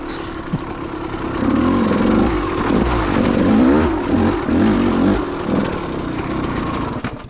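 A 2014 KTM 200 or 2020 KTM 250 XC-W dirt bike engine at Hodges Village Dam, loud and close, revving in rising and falling bursts over a steady rough idle.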